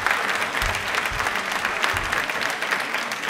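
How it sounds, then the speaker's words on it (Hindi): A large audience at a tribal pride day event applauds loudly in a continuous, dense burst of clapping that fills the whole room. "तालियां प्लीज एक बार जोरदार बजा दीजिए।"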